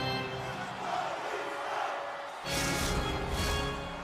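Video game hockey arena crowd roaring in a tie game late in the period, a sustained wash of cheering that swells sharply louder halfway through and stays loud with broad rushing noise.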